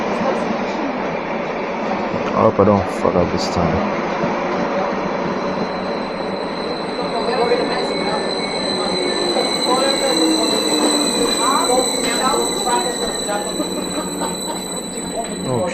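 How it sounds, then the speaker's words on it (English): A crowded passenger train pulls into a UK station, a steady rumbling roll with metallic wheel squeal and high brake whine building over the clip, while someone talks nearby. "our train has just arrived"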